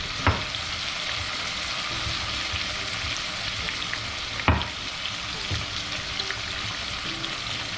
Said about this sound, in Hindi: ये अदरक लहसुन, इसको अच्छी तरीके से 2 मिनट भूनना है